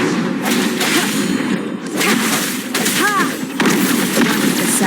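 Gunshots in Wuthering Waves ring out as several sharp bursts spaced through the clip, layered over game music and effects, with a voice speaking briefly.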